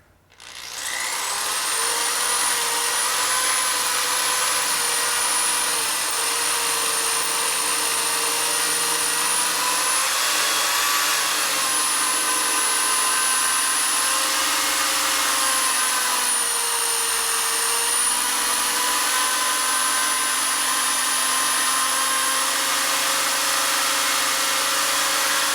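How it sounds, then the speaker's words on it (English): A power drill bores sideways into a broken sprocket bolt on the rear wheel of a Harley Twin Cam, whining steadily and loudly for most of the stretch, its pitch wavering as the bit bites and eases, with no talking. "I'm drilling sideways."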